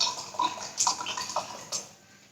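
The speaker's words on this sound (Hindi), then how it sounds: "तो हम इससे पहले पानी भर रहे हैं।" Plain water trickles and splashes faintly as it is poured into a steam evaporator, with small uneven bursts that taper off toward the end.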